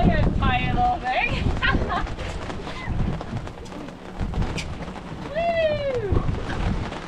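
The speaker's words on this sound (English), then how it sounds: "It's raining, people. It's raining." Rain patters steadily in the background on a fishing trip in Key West, Florida, while people talk and exclaim loudly over it, with a rising whoop-like vocal sweep near the end.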